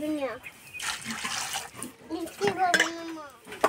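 Water runs from a kitchen tap and is poured over thinly sliced potatoes in a bowl, splashing in short bursts while voices talk nearby.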